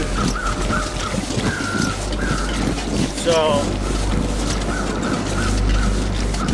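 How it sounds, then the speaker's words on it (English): Birds calling in a video game set on a coastal highway in winter: short chirping calls repeat across the clip over wind noise and a low rumble, with someone speaking briefly. "Those birds are flying around the bodies that we checked, are buried"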